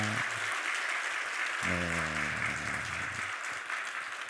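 A church congregation claps during a Sunday service, a steady, moderately faint patter of many hands filling the room while someone speaks briefly over it.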